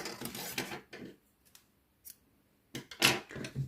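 Scissors snip a length of crochet yarn in several close, crisp cuts, with short pauses between the bursts and no talking.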